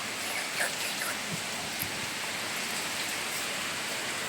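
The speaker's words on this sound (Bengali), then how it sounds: "জল পড়ছে।" Rain falling steadily in a soft, even patter of drops on surfaces, continuous and fairly close, with no clear talk.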